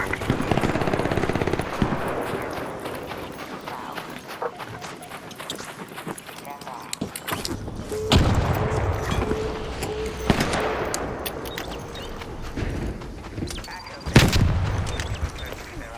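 Rapid gunfire in the video game Arc Raiders: bursts of fast automatic shots and heavy impacts run throughout, loud and busy, with players talking over the action.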